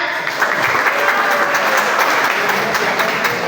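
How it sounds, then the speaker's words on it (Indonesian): Audience applause during a classroom talk, a loud steady burst of many hands clapping together, close and continuous throughout. "Kalian tepuk tangan gak?"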